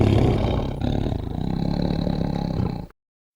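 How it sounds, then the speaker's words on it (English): A big cat's roar rumbles loud and close for about three seconds, a deep sustained growl that cuts off abruptly into silence, with no voices. "But this isn't really a purr. This is more of a roar."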